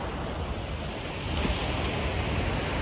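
Sea waves wash onto the shore on a still, windless day, a dense, steady broadband rush with a slight swell midway, no voices.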